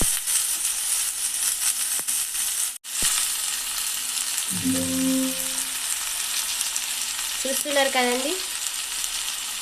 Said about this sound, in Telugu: ఇందులో ఉన్న నీరు మొత్తం పోయేంత వరకు మనము ఈ తోటకూరను నూనెలో కలుపుతూనే ఉండాలి